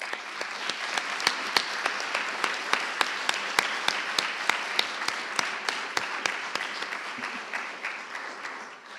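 Steady audience applause for Polish Foreign Minister Radosław Sikorski as a guest lecturer at the Badia in Florence, a dense wash of many hands clapping with sharper individual claps standing out, sustained and fairly close throughout.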